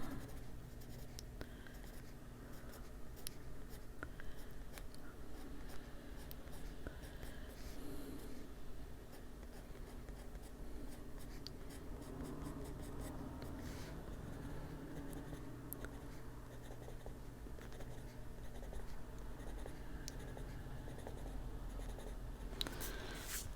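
A pencil colors on paper in an adult coloring book, producing continuous close scratchy strokes with quick back-and-forth rhythm and brief pauses, steady and moderately quiet throughout.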